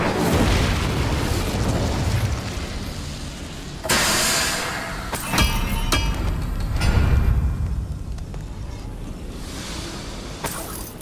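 Incendio fire spell cast in Hogwarts Legacy, booming fiery bursts and whooshing blasts with crackling impacts recurring over several seconds amid combat noise.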